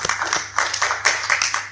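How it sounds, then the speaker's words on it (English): Applause at a PyCon Malaysia 2015 conference session: scattered, uneven handclaps from a modest audience, a few distinct claps and short bursts rather than a full roar. "give a round of applause for him to start"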